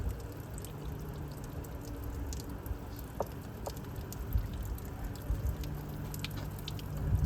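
Water poured onto the hot compressor of a GE ASW05LKS1 air conditioner during cleaning and servicing, a soft steady pouring and dripping patter, faint and close, with no talk.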